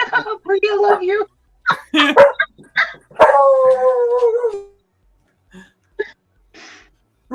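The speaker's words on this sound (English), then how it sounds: "There's a little dog outside that barks." A small dog barks outside, several sharp yaps mixed in with close conversation between people, the barks fairly loud and bunched in the first half before the talk and barking thin out.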